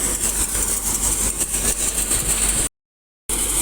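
A tractor engine runs steadily in a chickpea field, a continuous mid-pitched rumble with a bright hiss on top, holding constant with no voices, broken by one short gap before resuming.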